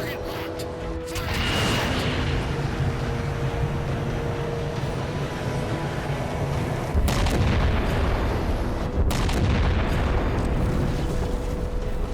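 Heavy booming blast from a targeted shot in the video game Halo 4, a dense rumbling explosion that swells after a second and hits again with sharp bursts near the end, loud and sustained throughout.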